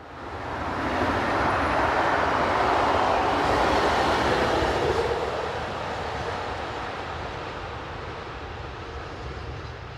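Locomotive 25588 hauls a passenger train toward Strasbourg, a broad rumbling roar that swells as it passes close by and then eases into a steady, slightly quieter rush of wheels and rail noise.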